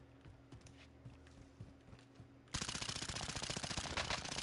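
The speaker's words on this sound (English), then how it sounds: "I'm getting shot from behind" Video game gunfire in Rebirth: quiet background shots at first, then a sudden loud sustained burst of rapid automatic fire for the last two seconds, no talking.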